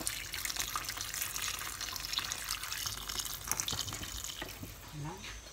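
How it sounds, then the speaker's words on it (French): Boiling water being poured into a pot of Moroccan couscous, a steady splashing, running pour close by that trails off near the end. "On va rajouter de l'eau bouillante aussi."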